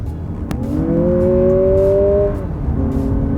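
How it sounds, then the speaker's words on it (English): A 2023 Lexus RX500h hybrid accelerating hard on a speed bowl, its engine note rising steadily in pitch through a long pull, then a brief drop at an audible gear change before climbing again, loud and close from inside the cabin. "see what it's like to get up to speed"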